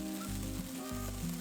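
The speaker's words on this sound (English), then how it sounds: "it's easy to fry these slices all at once on a large pan" Eggplant and potato slices fry together on a large pan, giving a steady, close sizzle with a low underlying hum and no voices.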